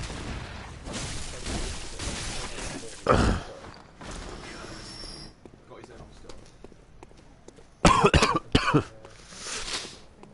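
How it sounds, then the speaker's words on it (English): A person coughs hard several times in short bursts, one early and a cluster of harsh coughs later, amid quiet game ambience and some speech. "Sorry guys, I do have a really, really bad cough."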